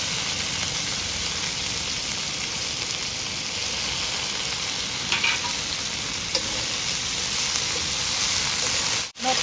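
Dhekia fern greens frying with onions in a pan, a loud, steady sizzle with occasional stirring scrapes throughout.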